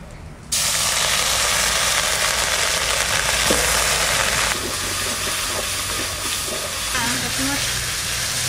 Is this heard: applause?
no